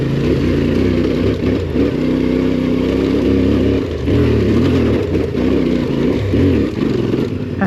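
A CFMOTO adventure motorcycle engine revs hard on a dirt trail, its throttle rising and falling in steady surges with some clatter, loud and close.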